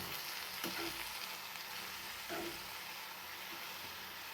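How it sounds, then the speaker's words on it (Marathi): Chopped onion greens fry in hot oil in a pan, a close, continuous sizzle with a few soft scrapes from stirring. "ही कांद्याची पात आपल्याला तेलामध्ये छान अशी भाजून घ्यायची आहे"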